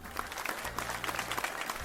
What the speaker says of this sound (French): Les dieux applaudissent.